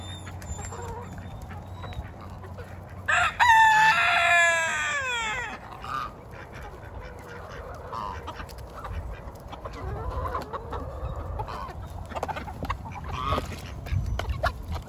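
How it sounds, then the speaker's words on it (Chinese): Chickens and chicks of mixed colours cluck and chatter around a person in a yard. A louder burst of calls comes in the middle, with scattered clucks throughout and no speech. "各种颜色的小鸡跟着我滋滋跑。"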